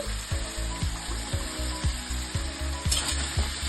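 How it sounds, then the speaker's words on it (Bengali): Chopped potato and carrot frying in hot oil hiss and crackle steadily up close, while a regular low thumping pulse repeats beneath the sizzle throughout. "এবারে এই তেলের মধ্যে আমি একে একে দিয়ে দিলাম আলু কুচনো আলু গাজর"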